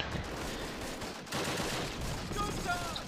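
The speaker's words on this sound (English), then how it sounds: "Cursed MG42s." Sustained bursts of MG42 machine gun fire in the Close Combat war game, a dense continuous rattle with overlapping distant shots filling the whole stretch, steady and moderately loud.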